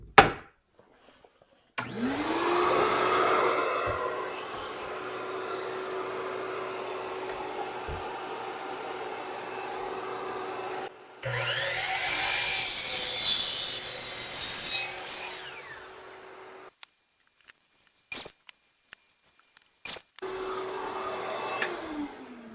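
A power saw spins up and cuts through wooden boards for a kitchen cart countertop, trimming the bad ends in repeated passes; the motor winds up and the louder cutting bursts alternate with brief pauses, fairly close and with no talking.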